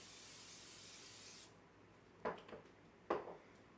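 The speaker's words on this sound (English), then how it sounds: "And you're going to spray your pan down." Two short hissing bursts of aerosol cooking spray onto a baking pan, close by, after a steadier hiss fades out; quiet surroundings, no talking.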